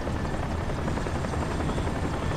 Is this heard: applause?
no